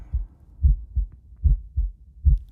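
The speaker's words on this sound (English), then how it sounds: "It was the beating of the old man's heart." A low, muffled heartbeat thumping steadily, five paired lub-dub beats in quick succession, close and dull with no other sounds.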